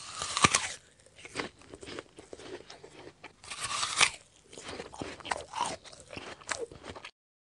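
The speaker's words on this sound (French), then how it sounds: "Croquer une pomme." Crisp crunching bites into an apple in the video game Adibou, two main bites followed by chewing crunches, close and clear with no talking.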